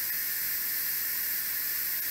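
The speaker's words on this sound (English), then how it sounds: "So we're going to vent all the steam out." A pressure cooker vents steam after cooking strawberry honey jam, a steady, loud, bright hiss that continues unbroken and close up with no talking.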